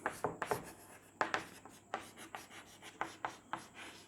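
Marker or chalk strokes on a classroom board, a series of short scratchy scribbles in quick bursts with brief pauses between, close and fairly quiet, no talking over them.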